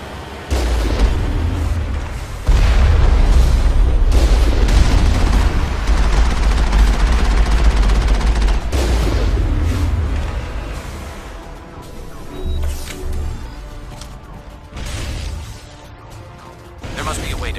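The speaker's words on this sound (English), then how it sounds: "We must find a way to disable their artillery." Artillery blasts and gunfire boom through a battle in the video game Mass Effect, loud and rumbling. Dense bursts fade into scattered, lighter hits later on.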